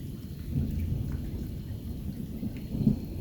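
Steady rain falls during a night thunderstorm on a farm, with a low continuous rumble of distant thunder underneath and a slightly louder swell near the end.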